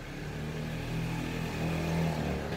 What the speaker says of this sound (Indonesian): suara-suara motor yang jalan depan rumah